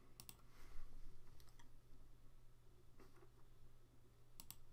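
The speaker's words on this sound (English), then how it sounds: "Let me click on back." A few mouse clicks on a computer, faint and close, in small clusters of crisp ticks separated by pauses over a low steady hum.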